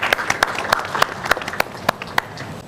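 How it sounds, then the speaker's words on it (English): An audience applauds a speaker, Dr. Vijay Agrawal, at a conference event at Hotel Lalit Ashok, with scattered claps that are fairly close and distinct, steady and unbroken for a few seconds. "Kindly give a big applause to Dr."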